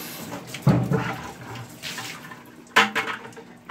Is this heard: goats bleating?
no